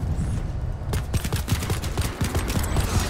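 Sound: silenced pistol gunfire in the video game Planetside 2

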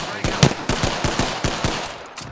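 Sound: gunfire in the video game Apex Legends

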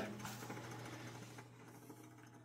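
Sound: well water pump running

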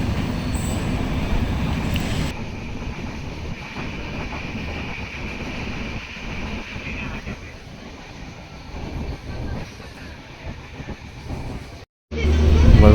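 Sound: Konkan Railway Janshatabdi train coming to a stop

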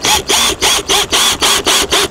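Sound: power drill screwing furnace strip to the RV roof

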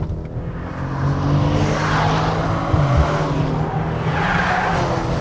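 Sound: 2018 Maserati Ghibli S Q4 accelerating in sport mode

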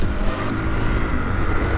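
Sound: KTM EXC 450 dirt bike engine, Akrapovič exhaust

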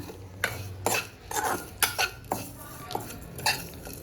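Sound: pouring roasted mixture onto a plate to cool

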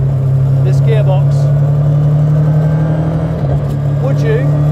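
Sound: MST Mark 1 restomod car engine while driving

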